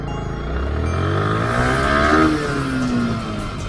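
A car accelerates on a highway, its engine note climbing steadily in pitch over a few seconds as it gathers speed, loud and close with continuous road rumble and no talk.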